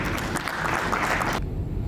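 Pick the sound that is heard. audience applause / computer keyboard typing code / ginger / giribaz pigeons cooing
audience applause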